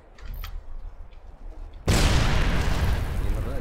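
In the video game Sniper Ghost Warrior 2, a sudden deep boom bursts in after a quieter stretch, followed by a sustained heavy rumble of debris and noise, loud and close.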